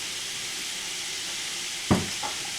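Food frying in olive oil, a steady broad sizzle and hiss throughout, with a brief clatter of a utensil near the end, close and moderately quiet.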